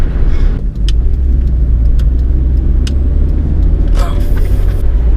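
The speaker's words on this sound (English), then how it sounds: "I kind of like driving the Civic like this." A gutted Honda Civic driven without a shift knob gives a steady, loud in-cabin engine and road rumble throughout, with brief higher-pitched whines and a swell of noise near the end.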